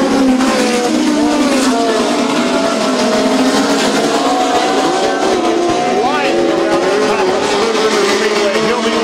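Midget race cars roaring around the Spoon River dirt speedway during a POWRi National Midget League race, a loud, continuous high-revving engine drone with shifting pitch as cars pass, under a steady announcer's commentary.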